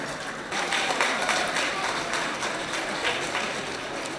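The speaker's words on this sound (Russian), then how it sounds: "Я попрошу вас, дорогие зрители, встретить ее громкими овациями." An audience at a jubilee concert applauds, a dense steady wash of clapping from many hands that swells slightly and holds without a break.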